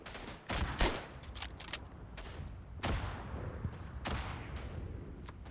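Machine gun and rifle fire crackles across a World War I battlefield in the game Verdun, as sharp repeated bursts and single shots, moderately distant and faint, with no talk.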